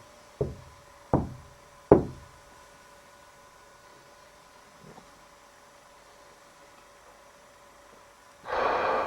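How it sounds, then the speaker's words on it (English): Three sharp knocks on the wooden head of a bed in a room at Bolebroke Castle ring out in slow succession, followed by near silence, a faint small thud, then a burst of hissing noise at the end. "can you knock on the head of the bed like this,"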